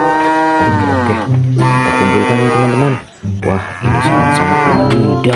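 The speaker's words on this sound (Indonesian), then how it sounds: "di sini masih ada suara sapi nih" Cattle moo in long, loud, close calls, one after another, inside a goat pen, with someone talking over them.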